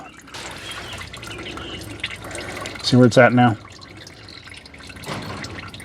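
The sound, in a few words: used engine oil dripping into a bucket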